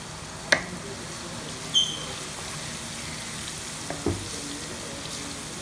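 Cumin seeds and half a kilo of okra fry in a pan, a faint, even sizzle broken by a few sharp clinks of a utensil against the pan.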